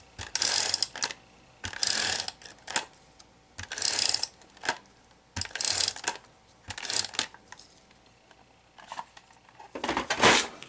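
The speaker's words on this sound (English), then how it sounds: "I'm going to go ahead and just use my little Easy Runner. This is a permanent Easy Runner tape." A permanent Easy Runner tape runner lays down adhesive in repeated short rasping, ratcheting strokes, close and loud, each pass a burst separated by quiet pauses.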